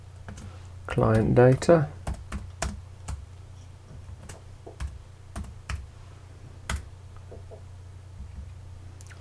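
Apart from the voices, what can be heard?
typing a folder name on a computer keyboard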